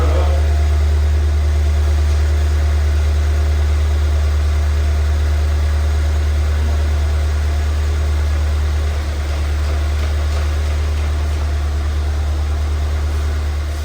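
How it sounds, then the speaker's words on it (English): A Ford Fiesta ST engine idles steadily with a strong, constant low hum and broadband mechanical whir, loud and close, with no voices over it. "the engine started first time"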